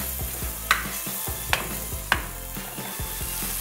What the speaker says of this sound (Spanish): Y seguimos friendo para que el ají nos suelte todo su sabor.